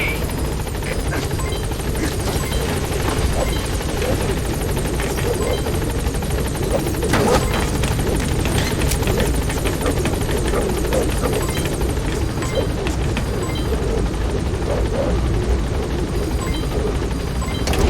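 A support helicopter in Metal Gear Solid 5 arrives at a landing zone, its rotor a loud, constant, close wash with faint voices underneath.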